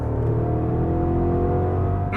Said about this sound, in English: That is a lovely engine note.